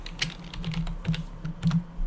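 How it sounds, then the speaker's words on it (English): Someone types in bursts on a computer keyboard, with a close, clicky run of irregular keystrokes and short pauses between groups. "I'm even typing in capitals."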